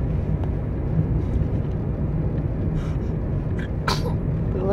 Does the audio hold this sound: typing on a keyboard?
no